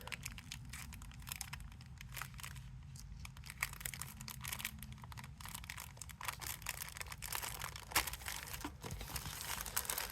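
A plastic decal packet for a 1:32 Trumpeter Vought F4U Corsair model kit is torn open at its tape seal, giving continuous close crinkling and crackling of plastic with scattered sharper snaps.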